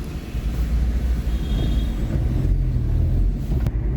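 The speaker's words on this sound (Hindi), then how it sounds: "इतनी देर बाद 5वां गियर लगा है, पंजा पूरा दावा है सनसनाते हुए" A car speeds in fifth gear along the Haldwani bypass, heard from inside as a steady low road rumble and engine drone with constant loudness.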